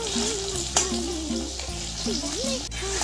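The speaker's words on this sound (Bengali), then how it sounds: "আর এই যে পেঁয়াজ দিয়ে দিয়েছি কড়াইতে" Onions sizzle steadily in hot oil in a kadai while a voice talks over the frying, with occasional stirring knocks close by.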